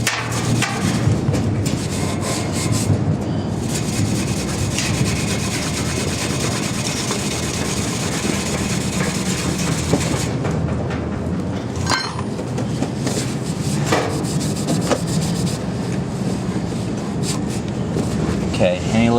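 Part from an HVAC unit being scrubbed with coil cleaner to lift off tar, a continuous rough rubbing and brushing close by with occasional knocks, and someone talking over it.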